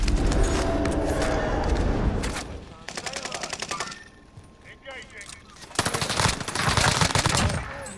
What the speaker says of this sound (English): People shooting from the hill, bro.